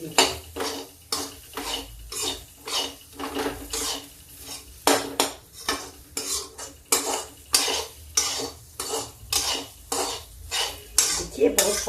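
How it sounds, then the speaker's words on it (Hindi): Kakun rice for kheer is stirred while it dry-roasts in a pan over low heat. A spoon scrapes and clinks against the metal in a steady, rhythmic series of close strokes, about one every half second, under a faint sizzle. "धीमे में इसको धीरे धीरे करके हम भूनते रहेंगे जब तक ये भून नहीं जाएगा।"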